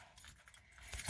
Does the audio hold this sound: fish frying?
no